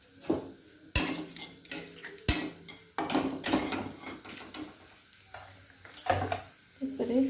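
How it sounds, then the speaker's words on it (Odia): Bay leaf, cinnamon and cumin fry in a pan for a broccoli and pea dish, a soft sizzle under clinks of a spoon scraping and stirring the pan, with sharp metallic knocks now and then. "ଏବେ ସେଥିରେ ଗୋଟେ ତେଜପତ୍ର ପକାଇଦେବି, ଡାଲଚିନି ଗୁଜୁରାତି କିଛି, ଜିରା, ତାପରେ ହାଲକା ଭାଜିଦେବା।"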